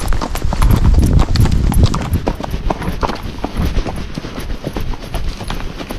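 Hooves of a Rocky Mountain gaited horse fox-trot along a trail in a quick, even four-beat clip-clop that stays close and loud, with some voices now and then.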